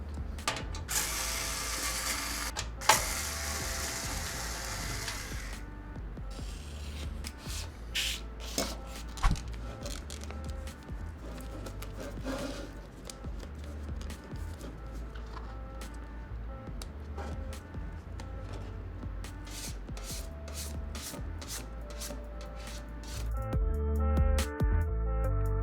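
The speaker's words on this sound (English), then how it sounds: "You don't need the hard drive cage, so I guess you can get that out too." Metal parts of a PC case clicking and ratcheting as the hard drive cage is worked loose and pulled out, a close run of small mechanical clicks and scrapes with a louder rattle near the end.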